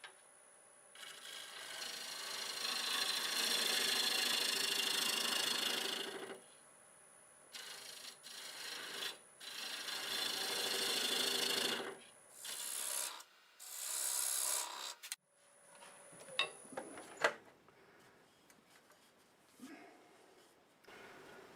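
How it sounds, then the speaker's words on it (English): A wood turning tool scrapes bark off a spinning bowl blank on a lathe, with long rasping cuts broken by pauses and shorter scratchy passes, close and fairly loud, fading to light taps and scrapes toward the end. "I'm going to finish cleaning this bark off because I like the looks of this."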